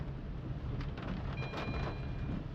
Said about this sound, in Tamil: இப்போ நல்ல மழை, பயங்கர மழை பெய்யுதுங்க